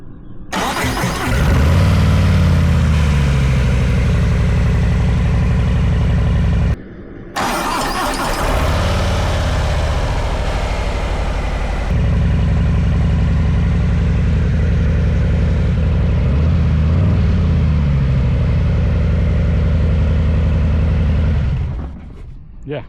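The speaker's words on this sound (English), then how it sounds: "we got the exhaust on. I think it's like a Slo-Moto or something along those lines" Harley-Davidson Lowrider S motorcycle with a new aftermarket Slo-Moto style exhaust, starting up and idling loud and close, a deep steady rumble with a brief cutout, blips of revving midway, then running on until it shuts off.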